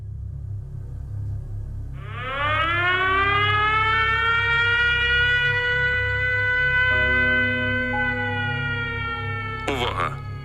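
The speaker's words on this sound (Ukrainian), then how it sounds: "Повітряна тривога. Пройдіть найближче укриття." An air raid siren in Ukraine winds up and holds a loud, steady wailing tone for several seconds, with a low engine-like hum beneath it and a brief burst of clatter near the end.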